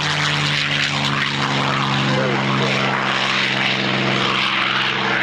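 An OV-10 Bronco propeller airplane climbs steeply at an airshow, its engines a loud, continuous droning roar with a steady buzzing hum that fills the whole stretch.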